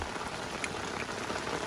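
Rain falling steadily and evenly on surfaces nearby, a dense close patter with scattered individual drops, no voices.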